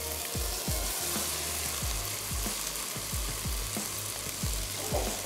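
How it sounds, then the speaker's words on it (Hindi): Okra added to a masala and frying for dhaba-style bhindi masala: a loud, steady sizzle close up, with repeated stirring knocks of a spoon against the pan throughout. "अब इसमें ऐड कर देते हैं ये भिंडी।"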